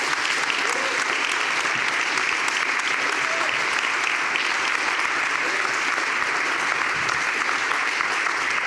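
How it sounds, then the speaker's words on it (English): Sustained applause from a conference audience at an opening session, thick continuous clapping that holds at an even level for several seconds with no break. "I think that deserves a huge round of applause"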